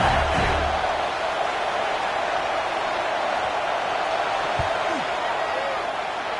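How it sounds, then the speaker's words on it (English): A loud, steady roar from a college football stadium crowd during a field goal attempt, broad and sustained, with a brief thump partway through. "This crowd trying to do its part to get inside the kicker's head"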